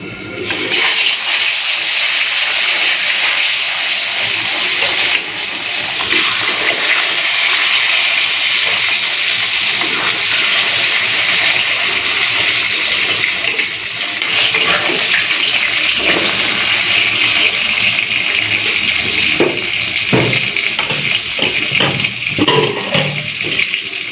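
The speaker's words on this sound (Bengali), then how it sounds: "চলুন এরপরে মাছগুলো ভেজে নিই।" Parshe fish frying in hot salted oil, with a loud, steady, dense sizzle that continues throughout and grows more crackly and uneven toward the end.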